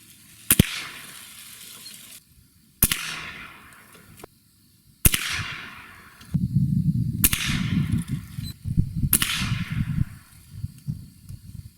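Gamo Gen3i air rifle firing pellets, five sharp cracks spaced about two seconds apart, each with a bright snapping report and short decaying tail, with a low rumbling noise joining partway through.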